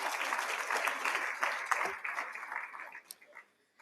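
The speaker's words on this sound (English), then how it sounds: "Final round of applause." Applause from an audience at an awards ceremony, a busy round of clapping that thins out and fades to a few last claps before silence.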